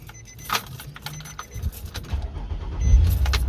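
A 2006 Nissan Murano with a replaced fuel pump cranks and starts after keys jangle, the engine catching and settling into a low rumbling idle close by.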